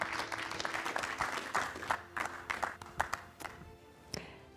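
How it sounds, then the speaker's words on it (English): Applause from an audience at a corporate fire-brigade technology presentation, scattered individual claps thinning out over a few seconds with some faint background voices. "A round of applause."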